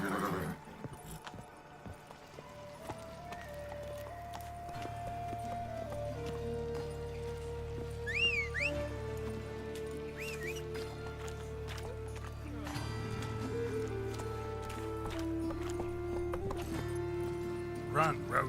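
Roach, a horse in The Witcher 3, gallops with a steady rhythmic clip-clop of hooves over a continuous game music bed, with a brief whinny partway through and a voice speaking over it.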